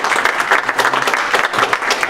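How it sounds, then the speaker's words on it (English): An audience at a club program meeting gives a round of applause, loud, dense and continuous clapping filling the room throughout, with no speech over it. "Give them a round of applause."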